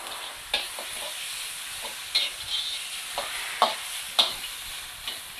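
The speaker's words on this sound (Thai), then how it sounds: "ผัดมันหมูให้สุก" Pork fat sizzles in a pan, a quiet steady fry punctuated by several sharp scrapes and clinks of stirring.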